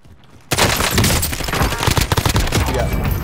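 Rapid video game gunfire erupts after a brief quiet start, a loud close burst of automatic shots that continues in dense, slightly uneven volleys to the end.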